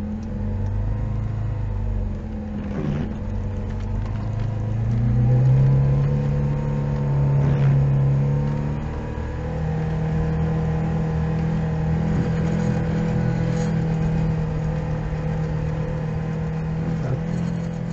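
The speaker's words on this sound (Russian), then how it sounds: "как вы слышите, что мой автомобиль уже на пределе работал, вторая пониженная, межосевой заблокированный" An off-road SUV's engine strains hard in low second gear with the center differential locked while pushing through deep snow, a steady close mid-pitched labouring drone that swells and surges for the full stretch, with no talking.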